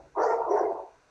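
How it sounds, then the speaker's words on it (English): A dog gives a single loud, close bark lasting under a second, heard alone indoors. "that's my dog."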